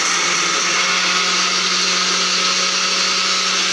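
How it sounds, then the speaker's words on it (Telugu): A mixer grinder grinds soaked lentils into a smooth batter, a loud, steady, high-pitched motor whine running nonstop at close range. "ఇప్పుడు బాగా మెత్తగా అయితే మిక్సీ పట్టేసుకోవాలి."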